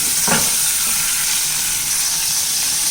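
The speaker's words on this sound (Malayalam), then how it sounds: "ചെറുതായിട്ടൊന്ന് ഉള്ളി തക്കാളിയൊക്കെ ഒന്ന് വാടി വരുന്നവരെ ഒരു 2 മിനിറ്റ് എണ്ണയിലിട്ട് നമുക്കൊന്ന് ഇളക്കി കൊടുക്കാം" Chopped onion and tomato sautéing in hot oil in a pan for dosa chutney, a loud, steady close-up sizzle with a brief scrape of stirring near the start.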